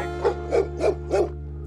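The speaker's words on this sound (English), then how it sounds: "The dogs of Angola." Guard dogs at Angola prison give four quick, evenly spaced barks over a steady low hum. The barks are muffled and moderately loud, and no one speaks.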